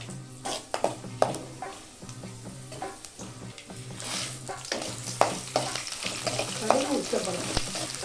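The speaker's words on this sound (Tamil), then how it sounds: "கடுகு உச்சப்படும்." Mustard seeds splutter in hot oil for tempering, with scattered crackling pops and soft frying hiss at moderate level, interrupted by occasional clinks of a utensil against the pan.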